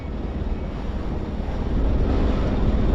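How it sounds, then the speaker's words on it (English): Wind and moving water on the Nile River at Aswan: a steady, broadband rushing roar with no voices, swelling slightly louder in the second half. "This is the Nile River at Aswan."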